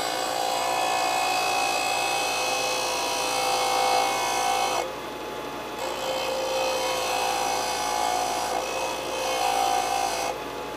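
Sanding the butt plate of a Ruger 10/22 benchrest stock with a power sander, a loud continuous abrasive whine held close up, briefly easing off midway before resuming steadily, with no talking over it.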